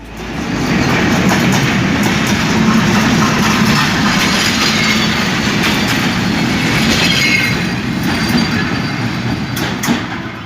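The Banglabandha Express on the Rajshahi–Panchagarh route rolls past close by in a loud, continuous rumble, with rhythmic wheel clatter and faint squeal over the steady roar.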